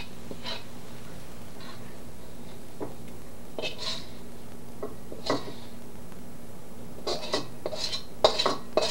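Browned garlic is scraped out of a pan with a utensil, producing scattered metallic scrapes and clinks that grow busier and louder toward the end, over a quiet kitchen hum.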